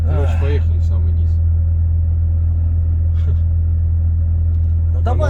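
A Volvo FH 540 6x4 truck's engine holds a steady, loud low rumble while descending a mountain pass, with voices talking over it at the start and end.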